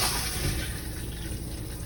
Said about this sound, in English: And what you're to do is just drop it in and flush it.